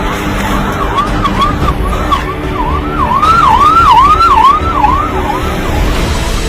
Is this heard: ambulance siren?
yes